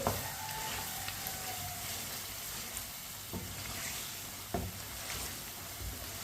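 Potatoes cook in a pan over medium heat, a soft continuous sizzle with occasional spoon knocks and scrapes as they are stirred, quiet and close, with no talking.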